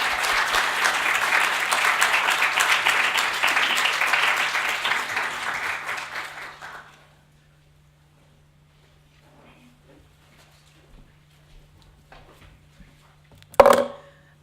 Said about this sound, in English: All right, let's give a round of applause for Dr. Luciano.